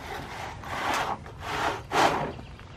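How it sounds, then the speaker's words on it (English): Plastic RV sewer hose carrier being slid into a rear bumper tube, three long scraping, rubbing swishes with short pauses between, fairly close and unaccompanied by speech. "we can just pick it up and slide it right in the bumper here"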